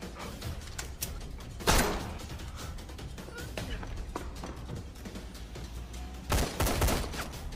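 Sharp bursts of gunfire crack out twice amid ongoing talk and background clatter, the second volley louder and longer.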